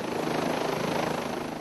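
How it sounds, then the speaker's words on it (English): An OH-58 Kiowa Warrior military helicopter flying overhead, its rotor producing a loud, rapid rhythmic thumping over a steady engine whine, continuous and close. "OH-58 Kiowa Warrior helicopters in the 101st Combat Aviation Brigade are not your typical eyes in the sky."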